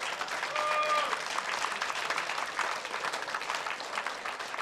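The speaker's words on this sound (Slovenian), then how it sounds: "Dajmo en velik aplavz najprej za našega pevca" A studio audience applauds a singer on an entertainment show, steady clapping that swells early then holds at a moderate level, with a brief tonal whistle-like sound near the start and no speech.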